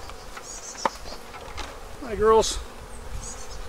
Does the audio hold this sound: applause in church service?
no